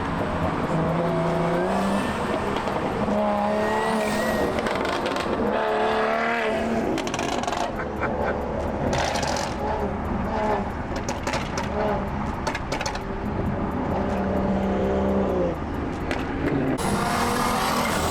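A supercharged Mustang of roughly 800-plus horsepower street races a Camaro, heard from inside as a loud engine roars and revs, with bursts of acceleration, tire noise and people talking over it.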